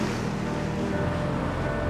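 Surf breaking on the Black Sea shore at Odesa, a steady broadband wash of waves with some wind rumble, continuous and fairly loud, with no voices.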